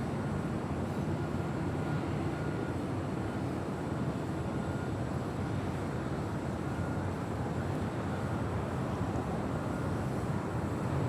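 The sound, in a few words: Southwest Airlines Boeing 737-800 jet aircraft at LAX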